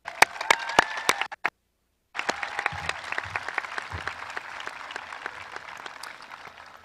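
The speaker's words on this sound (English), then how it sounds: "Could we take a quick moment to applaud all the parents in the stands?" A graduation crowd in the stands applauds the parents at a high school commencement. The clapping is moderately loud, with sharp individual claps close by, breaks off into near silence for a moment, then resumes as a denser, more distant wash of applause.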